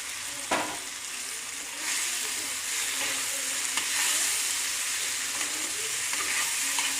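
Fried potol (pointed gourd) sizzles steadily in a pan of spice masala with Kashmiri chilli powder, with a sharp scrape of stirring near the start and occasional light spoon clinks over continuous close frying.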